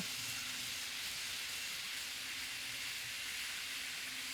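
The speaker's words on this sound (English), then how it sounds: "You see it again as the train passes a switch." Steady hissing, rushing noise with a faint low hum as a Kato model train rolls along track past a switch, continuous throughout with no clear clicks.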